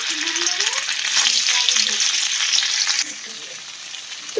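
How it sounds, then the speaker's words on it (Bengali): Paneer fries in a pan with a loud, close, bright sizzle that swells for a couple of seconds and then settles a little quieter but keeps going. "পনিরটা ভাজতে দিই"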